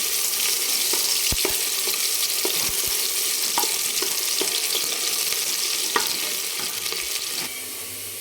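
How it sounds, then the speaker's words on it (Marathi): Finely chopped onion frying in oil until golden for a mutton dish, an even close sizzle punctuated by sharp spatula scrapes and knocks against the pan. "याच्यामध्ये आता आपण एक मोठा कांदा बारीक कट करून घेतला तो टाकून घेऊ आणि छान एकदम सोनेरी कलरवर आपण परतून घेऊ याला"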